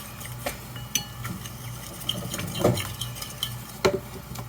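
A spoon stirs honey into a mixture in a kitchen bowl, giving soft, steady scraping and swishing with a few light utensil clinks against the dish, close by and fairly quiet.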